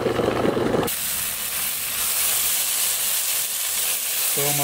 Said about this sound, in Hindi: तो चिकन हमारा भून रहा है